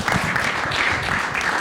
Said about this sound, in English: one more big round of applause for Richard Cheek